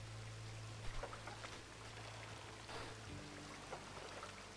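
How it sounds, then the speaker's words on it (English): Rain in the Red Dead Redemption (RedM) roleplay game, a soft continuous patter with scattered drips over a low steady hum, faint and without speech. "Oh, you call this rain?"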